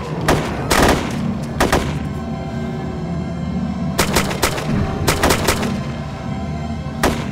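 Gunfire rings out while zombies are shot in a video game: loud, close bursts of shots in quick clusters separated by short pauses, over a steady low background rumble.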